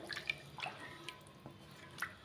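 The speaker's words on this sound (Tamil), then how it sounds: "தண்ணி வந்து பாருங்கள் நல்லா கொதிச்சிருச்சுங்க" Water boiling in a cooking pot in a Kanyakumari kitchen, with scattered close bubbling pops and drips at an irregular pace over a quiet background.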